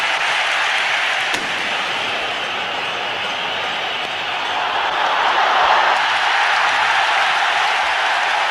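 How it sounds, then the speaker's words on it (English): Large cricket crowd at Eden Gardens during the 1993 Hero Cup final between India and West Indies, a steady broad roar of cheering and applause that swells slightly toward the end, distant and continuous with no clear talk over it. "The crowd begins to find its voice again"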